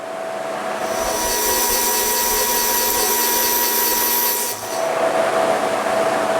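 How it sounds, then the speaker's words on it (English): A drill press bores a 22/64-inch hole through a workpiece held in a drill press vise, giving a loud, steady grinding whir with a brief dip before it continues. "We're going to go ahead and drill these holes."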